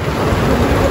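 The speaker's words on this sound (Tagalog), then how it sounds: "Lakas na yung ulan sa labas." Dense, steady downpour of heavy rain roaring without a break, loud and close.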